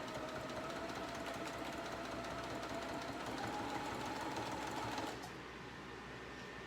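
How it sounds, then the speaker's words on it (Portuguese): A sewing machine runs steadily, stitching a Christmas rug with a fast continuous mechanical chatter, close but quiet, before slowing and stopping near the end as a low hum remains. "Vamos costurar aqui sempre"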